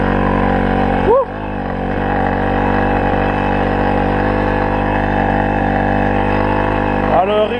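A Tomos 50 moped engine with a badly tuned carburetor runs loud and steady, a buzzing two-stroke drone that rises briefly in pitch twice, with a voice speaking over it.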